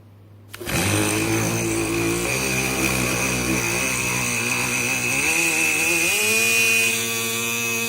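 A Dremel rotary tool spins up and drills into a spondylus shell bead at roughly 11,000 to 15,000 RPM, a loud, steady whine with a rising pitch near the end, heard alone.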